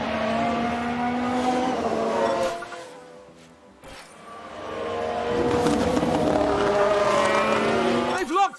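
1991 Formula 1 race cars in the F1 Manager video game, high-pitched engines screaming close by, fading as one runs wide and then surging back with rising revs and a brief tire squeal, with talk over them.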